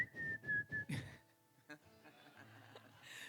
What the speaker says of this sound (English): Beach songs need whistling, right?